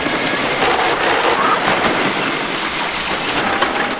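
The Comet, a wooden roller coaster, thunders along slick rain-wet tracks in a loud, continuous rumbling roar with rattling clatter, heard close with no voices.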